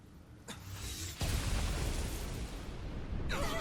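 Explosion in the action RPG Tales of Arise: a sharp burst hits at about a second in and leaves a dense, loud rumble that holds steady to the end, with no talking.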